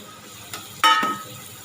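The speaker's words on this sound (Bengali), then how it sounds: "এবার এই থালাটা ধুয়ে একটু জল দিয়ে দেবো" Water rinsed from a plate is poured into fish frying in a kadai: a steady close sizzle, then a ringing metallic clink of the plate against the pan and a brief louder hissing burst as the water hits the hot oil, with no talking.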